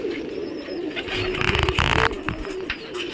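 Pigeons coo on a rooftop loft, a soft, steady burbling over an airy outdoor background that swells briefly in the middle before settling again.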